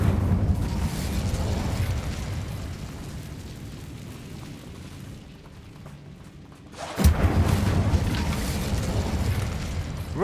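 An Incendio fire spell bursts in Hogwarts Legacy with a loud roaring whoosh, fades into a low rumble, then flares again in a second loud blast.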